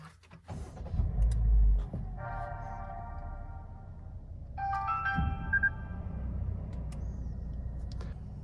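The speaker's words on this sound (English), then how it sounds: "Let's start the car up." A 2023 Perodua Alza H engine starts with a low cranking rumble that settles into a steady idle, while dashboard chimes ring out above it in the cabin.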